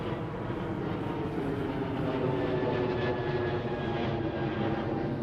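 Steady, loud broadband roar of a WestJet cargo Boeing 737 at Toronto Pearson airport, a continuous jet engine rumble with a faint rising whine, sustained throughout with no talking.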